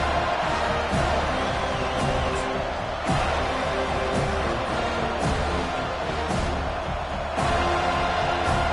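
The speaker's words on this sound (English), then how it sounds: "This crowd bringing an ear-splitting welcome to their visitors." At a college football stadium, a crowd roars with a dense, steady wash of cheering that holds at high volume throughout, with no clear voice on top.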